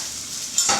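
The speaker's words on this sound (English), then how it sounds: "You want to hear that sear, that sizzle" Mushrooms sizzle steadily as they sear in a hot pan, a bright continuous hiss, with a short stirring scrape near the end.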